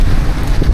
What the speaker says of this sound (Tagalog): Malakas na naman yung ulan guys.